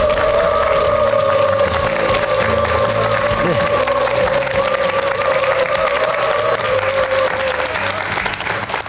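Audience applause fills a Korean TV talk-show studio (Daejeon MBC Talk & Joy) as a speaker is introduced: dense, steady clapping, loud and close, with a sustained tone running underneath and no distinct speech.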